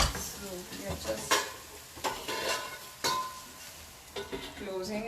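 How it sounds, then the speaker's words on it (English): Mutton pepper fry sizzles in a pan while a utensil stirs it, with irregular scraping strokes and clinks over a soft, steady frying hiss. "So you have to give a nice stir."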